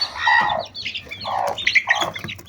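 Backyard chickens being raised on a homestead squawk in several sharp, harsh bursts, moderately close, with short gaps between calls and no talking.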